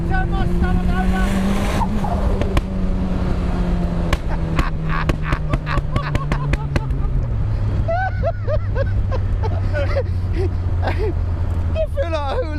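A Mazda MX-5 fitted with a motorbike engine accelerates hard, its high-pitched engine note climbing and dropping through rapid gear changes, loud and close from inside the car, with intermittent clicks and thumps and a voice briefly audible.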